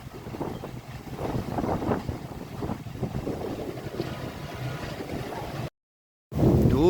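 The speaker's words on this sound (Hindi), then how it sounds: "बहुत ही तेज़ हवा है और बड़ा ही मज़ेदार किस्म का मौसम है इस टाइम रावलपिंडी रेलवे स्टेशन पे।" Strong gusty wind with heavy rain at Rawalpindi Railway Station, a steady roaring wash of wind buffeting the microphone, cut by a brief dropout near the end before resuming loudly.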